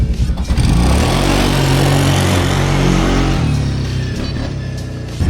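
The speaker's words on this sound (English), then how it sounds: "Let's stick y'all on this pole and show y'all taking off at full throttle." An old four-wheeler ATV launching at full throttle, its engine roaring loud and close with a rising rev, then a shift in pitch as it pulls away, staying strong throughout with no talk.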